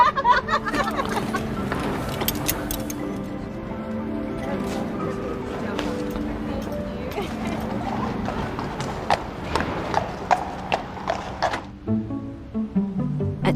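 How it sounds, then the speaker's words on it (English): Hooves of the royal horses that pull a royal carriage clip-clop in an irregular series of sharp knocks, close by, with clinks and other bustle around them and a brief voice. "I'm trying to feed the royal horse."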